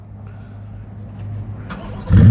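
A 2025 Chevrolet Corvette Z06 coupe in Torch Red cranks briefly, then its engine fires with a sudden, loud, deep roar at close range.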